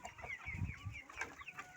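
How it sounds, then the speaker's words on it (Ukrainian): Chicks and hens clucking in a village yard, a run of close, soft clucks and short cheeping calls overlapping one another against faint outdoor background. "У нас курчата із курочками."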